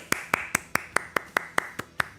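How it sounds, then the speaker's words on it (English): Clapping at an esports championship watch party, a steady run of about ten evenly spaced, crisp claps at moderate volume, sounding more like a single pair of hands than a full crowd. "please give a round of applause for Kekker, your World Champion."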